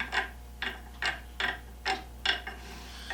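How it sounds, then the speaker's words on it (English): A loose nut skipping on a threaded rod makes six crisp ratcheting clicks at a steady rhythm, close and clear with no talk. "If I try this nut on this thread, it is so loose it'll actually skip."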